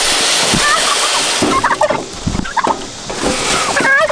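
Farm birds, turkeys among them, gobble and chatter repeatedly close at hand at feeding time, over a loud steady wash of outdoor background noise.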